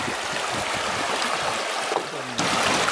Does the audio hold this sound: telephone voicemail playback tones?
no